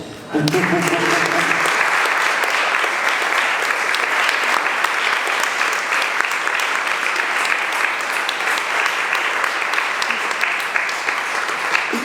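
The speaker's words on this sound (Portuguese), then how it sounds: "para quem eu peço também uma salva de palmas" An audience at the closing event of a research project honouring Lélia Gonzalez gives Januário Garcia a round of applause: dense, sustained clapping from many hands, loud and even for about twelve seconds, with a brief voice at the very start.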